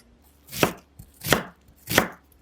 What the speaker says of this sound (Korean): 양파 반 개는 잘게 썰어 믹싱볼에 넣어주세요.